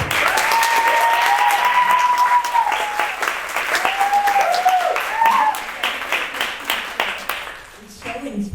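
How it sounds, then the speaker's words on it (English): An audience applauds warmly at an honoring ceremony, with dense clapping close and steady for several seconds, then thinning and fading out as a voice speaks over it. "I think much more applause to her than to you"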